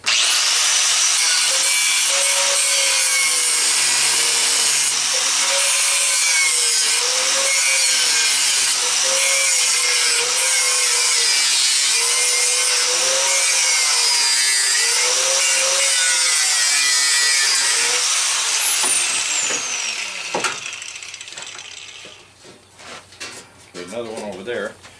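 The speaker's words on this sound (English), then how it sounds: "the grinder I got's got a cutting disc" An angle grinder fitted with a metal cutting disc cuts through the metal plate of an air conditioner being scrapped, giving a loud, sustained harsh whine with pulsing grinding that runs for about twenty seconds, then spins down and stops.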